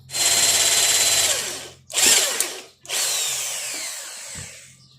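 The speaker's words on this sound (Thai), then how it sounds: "อ่ะเดี๋ยวเจาะไปก่อน" A power drill bores a hole in three loud sustained bursts separated by brief pauses, the motor whine steady and close, with no talking over it.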